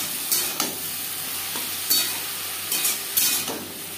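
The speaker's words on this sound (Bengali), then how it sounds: "লবণ হলুদ ঝিঙের সাথে বেশ ভালো করে মিক্স করে দেবো" Ridge gourd with salt and turmeric stirred in a hot pan on high flame, steady sizzle with several sharp scrapes of the spatula at irregular intervals.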